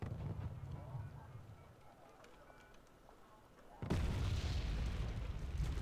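Distant booms of artillery fire roll through a Wargame Red Dragon battle, a low rumbling barrage that swells into a louder sustained blast near the end, with faint game ambience underneath.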